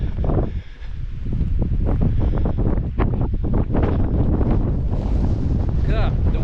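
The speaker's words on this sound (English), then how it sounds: "The wind's picked up a little bit." Strong wind gusts buffet a microphone on an exposed hilltop in the Peak District near Alport Castles, a steady loud roar with rushing surges and no pause.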